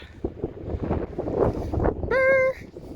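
Gusty, cold, foggy wind on an extinct volcano buffets the microphone with low rumbling bursts, ending in a brief steady tonal horn-like note.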